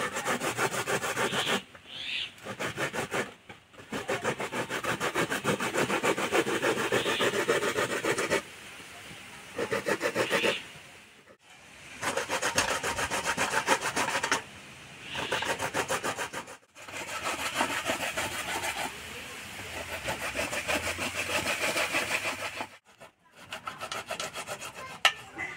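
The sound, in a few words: grating elephant foot yam on a sharp perforated plate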